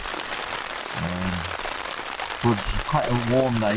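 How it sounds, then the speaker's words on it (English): Early-morning drizzle on a tent while wild camping near Skelton Tower, a steady soft patter and hiss running throughout under someone speaking close by. "as you can hear, the weatherman was right. And it started raining very early hours of the morning."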